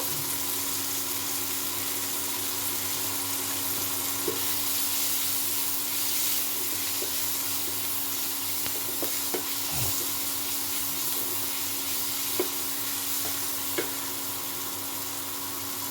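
Tomato frying with turmeric and salt in a pan for begun bharta, a steady broadband sizzle running throughout with occasional soft scraping stirs and small taps of a spatula.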